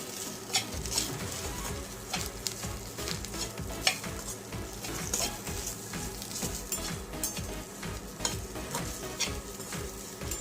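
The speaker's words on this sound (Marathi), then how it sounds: "छान असं आता वेल मिक्स करून घ्या सगळं साहित्य" Okra bhaji with spices being stirred in a pan: a steady sizzle with continuous scraping and clacking of the spoon against the metal, close and moderately loud, with no talking.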